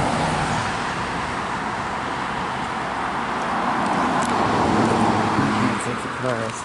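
Steady roadway traffic as cars pass near a cemetery, a continuous broadband wash that swells slightly toward the end, with someone talking over it.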